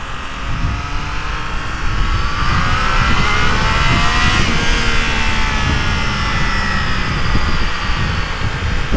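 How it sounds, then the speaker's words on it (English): Triumph Trident 660 motorcycle ridden at speed, its engine whistle rising and then falling over heavy wind rush, loud and continuous throughout. "That whistle."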